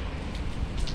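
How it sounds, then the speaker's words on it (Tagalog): Rain falls steadily during a heavy downpour on Good Friday, a short, dense, even hiss of drops with no voices over it. "So maganda guys na medyo umulan"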